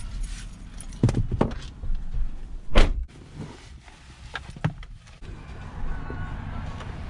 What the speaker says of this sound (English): I'll come around and get the door.